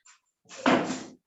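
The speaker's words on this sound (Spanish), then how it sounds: "El perro que me rasca la puerta." A dog scratches at a door: a faint brief scrape, then a louder rough rasping scrabble against the door surface lasting about half a second, close by.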